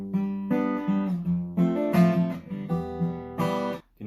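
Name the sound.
guitar chord strumming with strings muted in between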